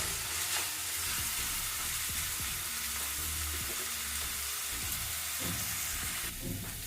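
Onions and curry leaves frying in a pan for a drumstick masala curry, giving a steady close sizzle with occasional stirring scrapes throughout, no talking.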